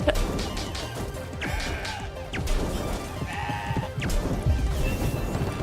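Goats in a video game bleat in several short cries amid sharp game hits and crashes, fairly busy and close with no voice over it.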